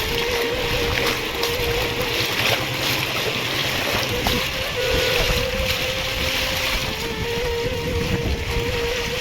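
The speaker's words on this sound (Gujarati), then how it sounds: "એટલું પાણી જાય છે અમારા રાવલ નદીમાંથી દરિયામાં" Raval river water near Jam Raval pours into the sea with a steady, loud, windy rush of surf and a faint low engine-like hum running underneath, no voices.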